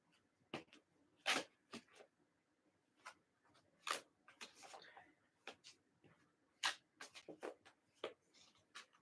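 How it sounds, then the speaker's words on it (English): Crisp riffling and slapping of a large deck of guidance cards being shuffled in irregular bursts, close and quiet, with soft rustles between. "It's so many cards that it's difficult to shuffle."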